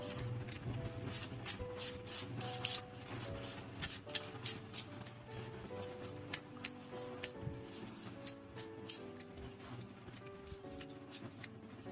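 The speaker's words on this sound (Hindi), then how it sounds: "तो शुरुआत करते हैं हम कार्ड शफल करके।" Tarot cards shuffled by hand in a quiet room, a steady run of soft riffling and rubbing strokes with occasional sharper flicks, close and fairly quiet over a faint low background tone.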